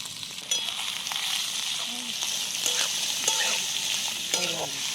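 Onion frying in oil for a dried-fish chutney, a constant crackling sizzle with a utensil stirring and scraping through the pan, close up with no talking.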